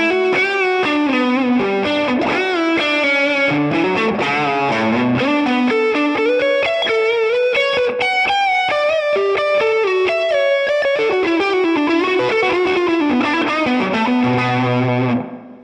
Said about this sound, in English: So full volume, we get obviously a very overdriven tone.